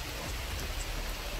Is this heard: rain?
yes